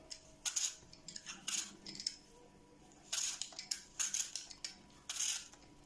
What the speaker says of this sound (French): je commence donc à éplucher mes pommes.